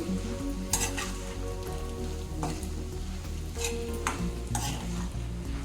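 A spoon stirs ground mustard paste into sizzling ash gourd curry in a pan, with scraping strokes at irregular intervals over a steady low frying hiss, fairly close.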